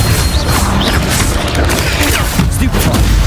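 In Hogwarts Legacy, an Incendio fire spell goes off as a loud burst of booming, crackling impact noise during a busy fight with other spell effects.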